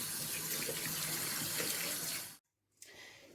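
Pears rinsed under running tap water, a steady close splashing rush that cuts off abruptly, then resumes more quietly after a brief silence.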